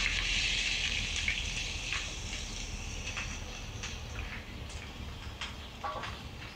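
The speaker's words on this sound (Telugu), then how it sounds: "ఇప్పుడు ఆనియన్స్ చిన్న చిన్న ముక్కలుగా కట్ చేసుకున్నా అవి వేస్తున్నాను." Finely chopped onions sizzle in hot oil for a chicken and drumstick curry, a steady, fairly loud frying hiss with scattered pops throughout.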